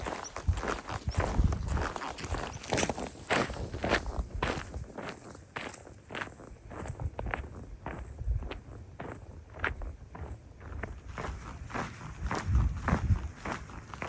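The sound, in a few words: own footsteps walking across the Scottish Highlands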